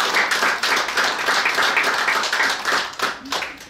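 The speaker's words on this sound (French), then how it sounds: "Des applaudissements pour Ariane." An audience at a literary café gathering claps steadily, a full, close wash of applause lasting throughout with no talking over it.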